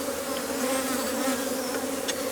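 Honey bees hum in a steady, close droning buzz from a farm apiary, an even tone holding throughout with a faint click near the end and no voices.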